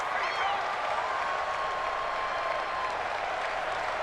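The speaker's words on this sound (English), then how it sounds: "The crowd's not doing that O-line any favors. Home field advantage is really kicking in" A stadium crowd roars in an American football video game during a Redskins vs Jaguars matchup, a loud, continuous wash of cheering and noise with a faint sustained whistle-like tone riding above it.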